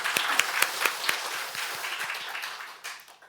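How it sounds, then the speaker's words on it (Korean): A church congregation claps together in brisk, scattered applause that fades gradually over a few seconds. "우리 하나님의 영광의 박수, 감사의 박수 올려드리겠습니다"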